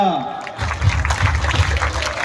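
A crowd at a school prize-giving ceremony claps for student runners, a dense, loud burst of applause that begins after a brief voice and continues steadily to the end.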